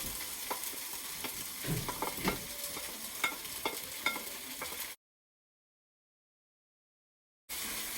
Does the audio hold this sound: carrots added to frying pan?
yes